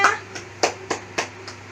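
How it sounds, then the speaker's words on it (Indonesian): A classroom of students applauds a group at the front, giving a short burst of clapping followed by a few separate, sharp claps spaced out at a steady rhythm, close and fairly loud. "Tepuk tangan semuanya."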